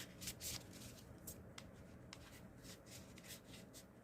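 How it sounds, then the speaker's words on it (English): Thick deck of playing cards being shuffled close up: quiet, brief riffling and rubbing bursts that repeat irregularly over a soft background. "Oh, very hard to shuffle these cards."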